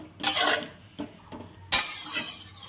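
Water poured into a pan of cooked poppy seed paste for aloo posto: short splashes and clinks of a pot, a brief pour, then a sharper hit and spattering, close and fairly quiet.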